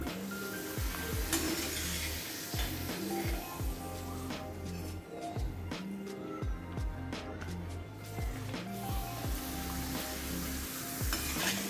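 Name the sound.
papad frying in oil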